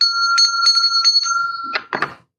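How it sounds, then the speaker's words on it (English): A bell rung during an energy-cleansing ritual gives a run of bright, sustained ringing tones with repeated strikes, ending in a couple of louder clanging hits, close and alone. "Ringing the bell for a true smile here today."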